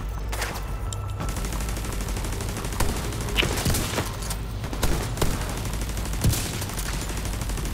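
Turret gunfire in The Division 2 sounds as continuous rattling bursts with sharper cracks layered over a dense battle din, loud throughout with no speech.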